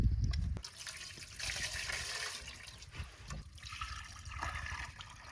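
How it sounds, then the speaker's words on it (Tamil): Water pours and trickles steadily while goat intestine is rinsed and cleaned in a village kitchen, a continuous splashing flow with a brief low thump at the start. "ஏன்டா தண்ணி ஊற்றுறா?"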